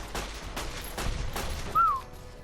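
Heavy weapon fire in the Fallout New Vegas game, a few dull bursts of gunfire spread across the moment along with a short high whistling tone, moderately loud with no talk.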